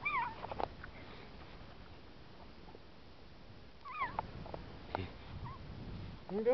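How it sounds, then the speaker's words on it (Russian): A cat meows softly a few times, rising and falling cries with quiet pauses between them over a faint background hiss. "Ну давай, чего мяукаешь, дитя?"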